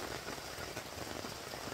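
Heavy rain pours down at a motorcycle campsite, a dense, even hiss of drops striking surfaces with no pauses and no voices.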